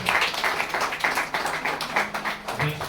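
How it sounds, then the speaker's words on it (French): A courtroom audience in Goma claps during a judge's swearing-in ceremony, sparse rhythmic applause from a modest crowd at moderate loudness, with some murmuring voices underneath. "Applaudissons, applaudissons."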